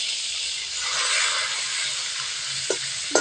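Pork with garlic hissing and sizzling steadily in a hot pan, a continuous bright frying crackle with a couple of faint clinks near the end.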